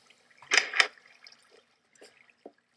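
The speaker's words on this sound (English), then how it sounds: "And that's it, and I just fell into the water." Splashing water in the Minecraft video game as a player falls in: two quick close splashes followed by a few faint drips and trickles, with no talking.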